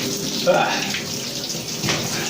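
Shower water running steadily in a bathroom, a continuous hissing spray throughout with slight shifts in flow.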